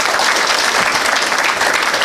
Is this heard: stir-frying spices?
no